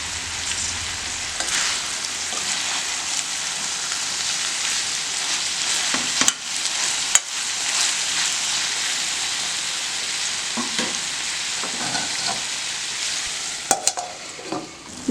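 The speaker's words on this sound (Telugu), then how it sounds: "మనకి టమాటోలు బీరకాయ ఇంకా కొంచెం బాగా వేగాలి." Ridge gourd and tomatoes fry in a pan for a Telugu chutney, a steady close sizzle with occasional scrapes and clinks of stirring, and no talking.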